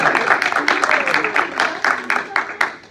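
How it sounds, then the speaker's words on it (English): A vocal class applauds, dense overlapping clapping from a small group in a room, steady and fairly loud throughout, with a few sharper claps near the end. "Let's clap for her."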